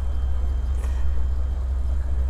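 A classic Rolls-Royce Shadow moves past at a gathering of vintage cars in Andrésy, heard as a low, even engine hum that stays constant and moderately close throughout.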